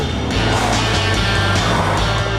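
A Nissan Almera with a 1.0 litre turbo engine sounds as a loud, close engine drone with pulsing low rumble and rising, revving tone, no talk over it.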